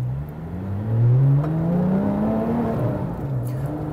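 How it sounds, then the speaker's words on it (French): A Porsche 911 GT3 RS accelerates gently along a straight, its engine tone climbing smoothly and steadily from inside the car, moderately loud with no talking over it. "Ok, on va accélérer gentiment."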